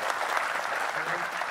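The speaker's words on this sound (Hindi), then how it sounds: "ताली बजाओ उनके लिए यार." Audience at a medical motivational talk applauding, a dense, steady burst of clapping from a large crowd filling the hall for a brief moment.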